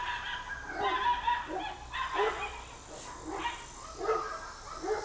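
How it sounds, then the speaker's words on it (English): Several dogs bark outdoors at a short distance, in irregular bursts of woofs and yips spread across the moment, with quiet gaps between. "So the dogs are barking"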